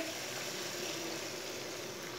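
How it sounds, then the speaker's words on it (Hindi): Water pours steadily into a pot of fried masoor dal, a continuous splashing gush with no talking. "तीन गिलास पानी डाल लेंगे।"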